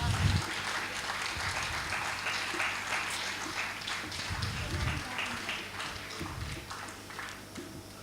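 Enthusiastic audience applause at a stage event, a dense wash of clapping that holds steady throughout, close and lively, with a few louder bursts rising out of it.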